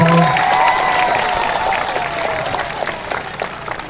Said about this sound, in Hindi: सब लोग ताली मारो